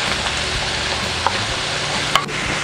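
Beef liver and potatoes sizzling loudly in a pan while being stirred, a continuous crackling fry with a couple of sharp utensil scrapes against the pan.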